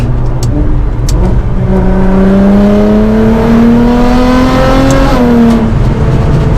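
A Nissan GT-R R35 accelerates hard, its engine note climbing steadily in pitch through the gear for about five seconds, then easing off, loud and close from inside the car.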